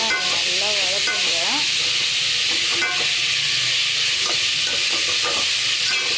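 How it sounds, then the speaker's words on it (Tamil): Two teaspoons of ginger garlic paste sizzle while being sautéed in a pan for mutton gravy, a loud, steady frying hiss throughout, with someone talking over it. "ஒரு 2 டீஸ்பூன் இஞ்சி பூண்டு பேஸ்ட்டு. பார்த்தீங்களா, நல்லா வதக்குங்க."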